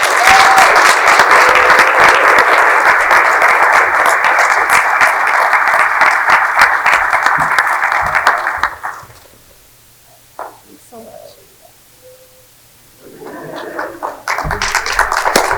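Audience at an academic conference general session applauds award winners, a loud sustained ovation for about nine seconds that then dies away into quiet room noise before clapping resumes near the end.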